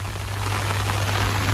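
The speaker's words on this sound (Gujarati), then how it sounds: "આ ટાઈપનો આ વરસാદ પડે છે" Steady broadband hiss of light drizzle falling outdoors onto a road, continuous and fairly loud, with a low constant hum running underneath and no talk.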